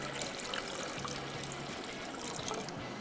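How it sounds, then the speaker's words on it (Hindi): About a cup of water is poured into a pot in a kitchen, giving a continuous, even trickle and splash close up, with no talking over it. "साथ में इसमें पानी भी हमने तकरीबन 1 कप शामिल कर देना है।"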